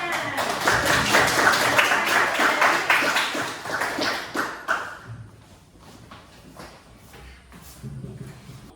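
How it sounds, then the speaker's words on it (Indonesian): A classroom audience claps after a group presentation, loud, dense applause for about five seconds, then thinning to scattered claps and faint murmurs. "Ya, beri tepuk tangan."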